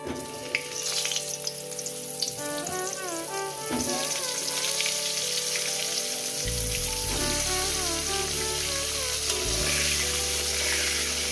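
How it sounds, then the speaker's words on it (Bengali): Pointed gourd frying in hot oil with salt and turmeric, a dense steady sizzle and crackle running throughout, loud and close, with brief clatters of a utensil partway through. "তেলের মধ্যে লবণ আছে হলুদাকে সবজি আছে প্রথমে আমি এটাকে সুন্দর করে লাল লাল করে ভেজে নেব"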